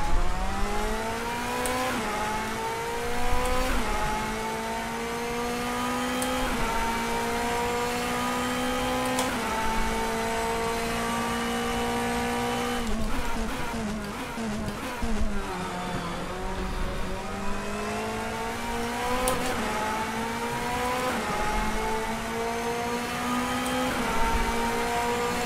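Race car engine in DTM Experience qualifying at Moscow Raceway, revving steadily with rising and falling gear changes over about 25 seconds, loud and continuous with occasional tire squeal.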